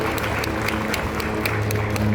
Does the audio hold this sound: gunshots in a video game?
no